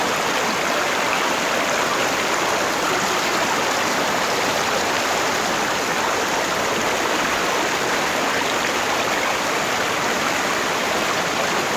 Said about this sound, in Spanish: Ve aquí el río que nosotros tenemos, muy bonito